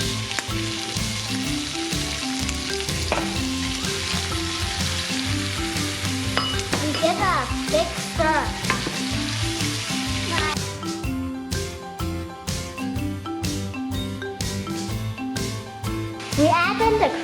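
Codfish frying in a pan alongside prawns for a creamy seafood noodle dish, a steady loud sizzle with stirring scrapes throughout, while music plays underneath and a voice is heard.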